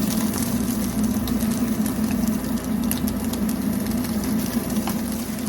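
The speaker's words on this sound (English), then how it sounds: "You can hear it start to sizzle away." A steady, crackling sizzle of tofu frying in a hot, dry pan without oil, continuous and fairly loud throughout with no talking.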